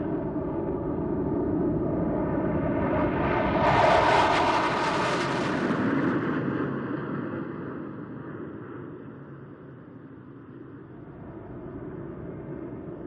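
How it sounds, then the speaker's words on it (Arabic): A formation of Pakistani JF-17 fighter jets roars past at an air show, a loud sustained engine rumble that swells to a peak and then slowly fades as the aircraft move away. "التشكيل التالي هو لطائرات JF-17 التابعة لجمهورية باكستان الإسلامية."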